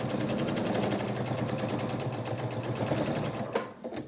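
Sewing machine stitching quilt strips, a fast, even mechanical rattle of the needle close up, running continuously before slowing and stopping near the end.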